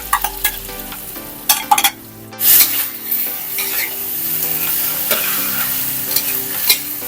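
Beaten egg sizzles in a hot pan in a Thai home kitchen while a utensil stirs and scrapes it until dry, with clinks against the pan over a steady frying hiss.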